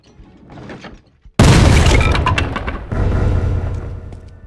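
A cannon fires round shot in the Guts & Blackpowder video game, a sudden loud boom after quieter rumbling, followed by a long crackling, debris-like roar that slowly fades.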